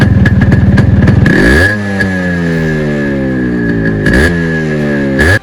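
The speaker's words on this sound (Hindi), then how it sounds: "2 स्ट्रोक इंजन से निकलती हुई वो रिंग डिंग डिंग की आवाज़।" A Yamaha RX100 two-stroke motorcycle exhaust gives a loud, close, ringing note: a rapid buzzing idle, then several revs that climb and fall, one near the middle and another near the end, with no talk.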